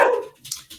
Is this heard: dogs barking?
yes